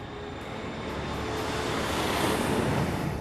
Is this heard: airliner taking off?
yes